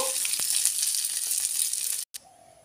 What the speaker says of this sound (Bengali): চাল ডাল একটু নেড়ে নেব।